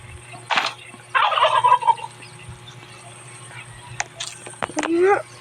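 A turkey gobbles in the Roblox game 99 Nights in the Forest. The short warbling calls are heard twice, once early and once near the end, with game noises around them and a person talking.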